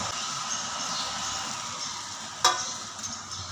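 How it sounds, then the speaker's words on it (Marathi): Cheese herb toast fries in butter on a hot griddle over a low flame. A steady, close hiss of sizzling continues throughout, broken once by a single soft knock. "आता हे बनवलेले एक टोस्ट आपण तव्यावर टाकून घेऊ"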